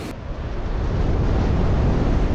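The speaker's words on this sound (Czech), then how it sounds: "fouká mnohem větší vítr, ze západu zase" Strong westerly wind roars continuously against the microphone during a paragliding flight over Lijak, Slovenia, a loud, dense rush with no voices.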